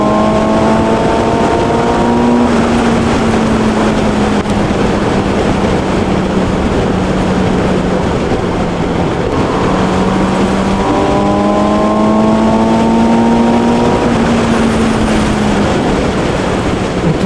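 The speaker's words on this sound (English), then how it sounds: "when you're sat on the bike, you can hear all that induction noise." Suzuki GSX-S750 motorcycle engine heard from the rider's seat, with induction noise and engine tones rising through two long acceleration runs, each pitch sweep climbing and levelling off, loud and close.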